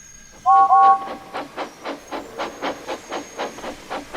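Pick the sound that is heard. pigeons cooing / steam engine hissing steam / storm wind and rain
steam engine hissing steam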